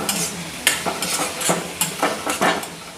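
A spoon stirs cauliflower frying in oil in a pan, giving repeated scraping strokes over a soft, continuous sizzle, close up with no talking.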